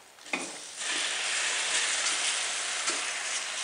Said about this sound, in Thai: ผัดกระชายก่อนจะได้มีกลิ่นหอมดีด้วยนะคะตามด้วยปลาดุกเลยค่ะ